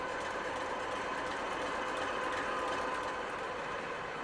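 Old Kolomna diesel engine running inside a Ludmilla diesel locomotive, a dense, steady mechanical roar with rattling, constant and loud from start to end, no voices.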